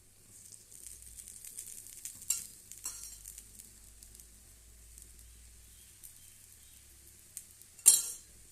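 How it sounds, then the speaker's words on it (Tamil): Oil trickled lightly over a spicy kara dosa cooking on a hot pan, with a soft, steady sizzle and crackle throughout, a few faint scrapes, and one brief louder hiss near the end. "எண்ணெயை அப்படியே மேலே லைட்டாக அப்படியே ஊற்றிக்கலாம்"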